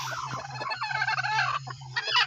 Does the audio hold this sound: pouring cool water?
no